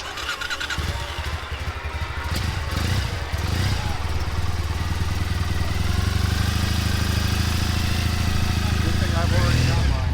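Motorcycle engine running steadily at a dealership, a loud, close, continuous mid-pitched idle with a brief rise early on, while people talk over it.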